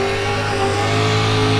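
Racing simulator car engine in a video game drift, a loud sustained engine drone with steady harmonic tone and slight pitch wavering, no voices.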